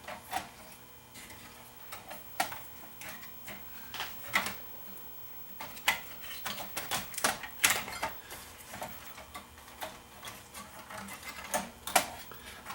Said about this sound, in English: now I can lift these ones out of the way, unplug these, wherever they unplug